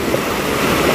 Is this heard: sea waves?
yes